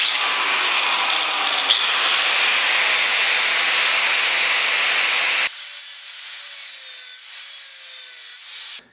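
A cutoff wheel on a Dremel or grinder cuts a slot into a crud-packed bolt, making a loud, steady, close grinding whine that shifts in tone partway through, with no voices.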